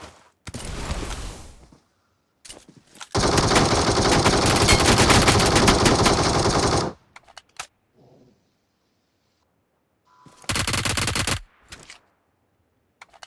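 Gunfire in the mobile battle-royale game PUBG Mobile comes in loud bursts: a short volley, then a sustained automatic burst of several seconds, a few isolated shots, and another rapid burst, separated by near silence.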